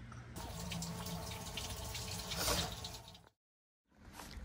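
Shower water runs steadily inside a converted bus, a continuous close splashing hiss that cuts off abruptly near the end, then resumes briefly after a short silence.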